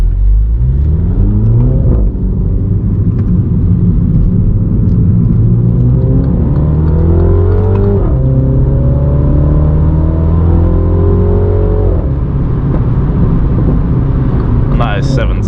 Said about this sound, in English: This thing does pull when you put your foot down on the exit of a roundabout.